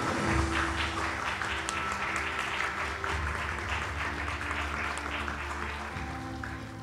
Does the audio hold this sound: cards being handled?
no